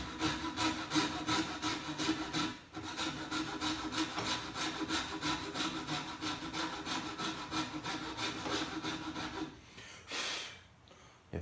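A saw cuts MDF base molding for a coped joint with steady, close back-and-forth strokes for about ten seconds, then the strokes stop and a brief scrape follows.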